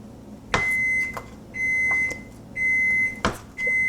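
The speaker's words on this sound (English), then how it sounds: "That's my oven. I preheated my oven to 425." A kitchen oven preheated to 425 degrees gives a series of loud, evenly pitched electronic beeps in separate bursts, with a few sharp clicks between them.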